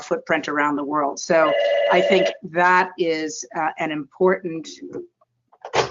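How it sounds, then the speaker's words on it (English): A telephone bell rings through a podcast interview, with its steady ringing tone layered under continuous talk from a speaker. "That was a phone that should have been turned off."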